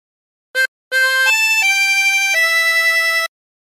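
A tremolo harmonica plays a hymn phrase: one short blown note, a pause, then a run of sustained, wavering reedy notes that step downward in pitch, clear and close with no talking.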